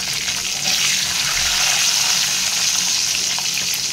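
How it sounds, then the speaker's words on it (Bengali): Garlic hits hot oil and spices in a pan for an egg curry, giving a steady, close, fairly loud frying sizzle that hisses continuously with no talk. "এবার আমি রসুনটা প্রথমে দিয়ে দেবো।"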